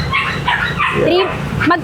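A three-month-old puppy at a pet market gives a quick run of high yips and whimpering barks, close by, mixed with people talking nearby.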